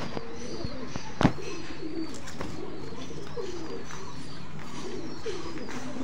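Female pigeon bred from Benaras and Chat breeds, giving soft repeated low coos close by, with a sharp click near the start.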